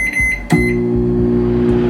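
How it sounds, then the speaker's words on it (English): A home microwave oven starts with a click and a short beep, then settles into a steady low hum, close and loud, with no talk. "I'm just gonna pop this in for 3 minutes in my microwave."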